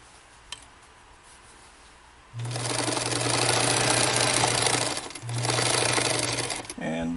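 A Bernina 830 sewing machine stitches a fabric tool roll near the edge, running in two loud steady bursts with a brief pause between, after a quieter stretch with a voice speaking.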